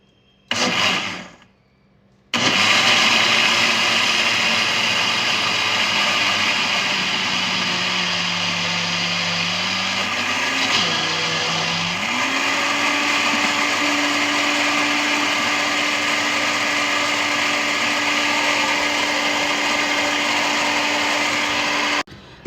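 An electric blender whirs loudly, mixing chocolate sauce ingredients: a short start, a pause, then a long steady motor drone that dips and rises in pitch as the load changes, with no talking.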